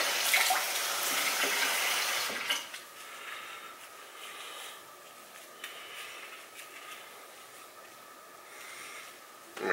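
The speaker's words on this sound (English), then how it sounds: "add some water" Tap water running and splashing as it wets a paper towel wrapped around a pierced sweet potato, steady and close, with a brief bump and the flow quieting after the first couple of seconds.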